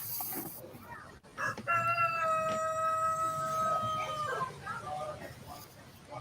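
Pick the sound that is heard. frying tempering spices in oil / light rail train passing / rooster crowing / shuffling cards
rooster crowing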